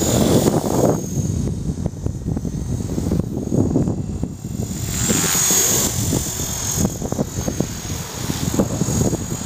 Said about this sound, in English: Some of my other helis.